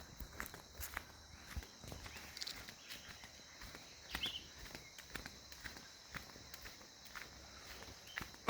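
Elderly villagers walking to church early on a Sunday morning in a lakeside village near Lake Toba: soft, steady footsteps crunch along the road, faint and fairly distant, with no talk.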